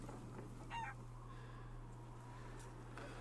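Chickens in Resident Evil Village give a short burst of clucking, faint and slightly distant, over a steady low ambient hum and quiet background noise, with no talking.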